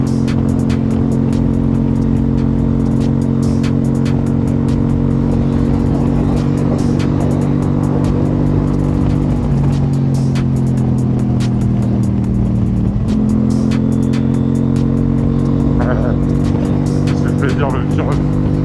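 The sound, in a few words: KTM 790 motorcycle riding, engine and gear shifts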